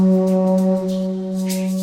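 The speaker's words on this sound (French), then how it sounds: "on peut se servir de la conque comme d'une corne de brume." A conch shell is blown like a foghorn, giving one loud, sustained low blast with rich steady overtones and a slight change in tone partway through.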